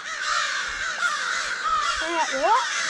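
Crows cawing while chasing an owl near Lake Eufaula, several harsh caws at close to middle distance, with someone talking over the calls.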